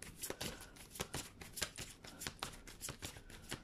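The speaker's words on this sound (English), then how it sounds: "Sorry, I'm shuffling around my decks." Tarot card decks are shuffled and riffled in quick, irregular bursts of crisp papery flicks, close and fairly quiet, with no voices.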